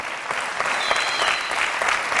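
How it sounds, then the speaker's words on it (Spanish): A church congregation applauding with steady, dense clapping from many hands filling the room, loud and continuous throughout. "Dele con ganas un aplauso al Señor."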